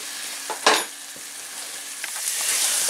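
Peppers cooking in a pan for seafood paella, a soft steady sizzle with one sharp scrape of a utensil early on and a few lighter stirring touches, close and fairly quiet with no speech.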